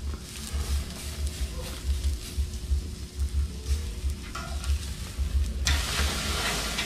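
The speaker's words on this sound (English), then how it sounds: "We got the most amazing steaks cooking up." Steaks sizzling on a Q grill, a loud continuous frying hiss with crackles and low rumbling, close up, briefly brightening toward the end.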